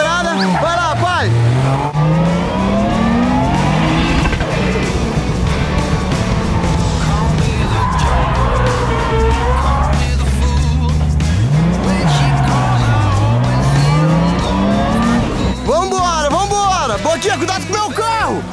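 Nissan 350Z drifting on a course, engine revving up and down in long sweeping pitches with tires squealing loudly throughout, close and continuous, with voices shouting over it.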